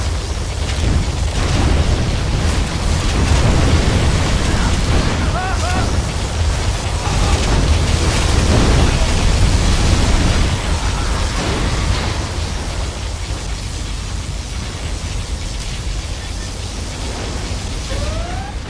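Heavy, continuous rumbling blasts and explosions from a particle cannon firing in a Command & Conquer Generals Zero Hour match, loud and dense throughout, fading slightly toward the end.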